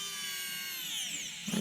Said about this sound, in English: That's about as far down as the drill went, because spinning motors aren't the best.